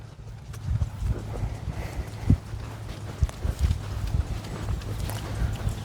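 Rhythmic hoofbeats of a horse cantering on soft ground, steady thudding strides close by, with a faint low hum underneath.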